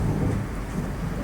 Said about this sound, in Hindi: उसी तरह मेघ गरज रहे,